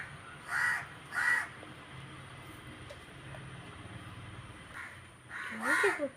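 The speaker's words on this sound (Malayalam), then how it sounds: "ഇവിടെ ബഹളമാണ് കാക്ക കരിച്ചൽ നിറച്ചും കാക്ക കരിച്ചലാണ്" Crows caw noisily in short loud bursts near a basket of chicken, two calls early and another cluster near the end, over a steady low outdoor background.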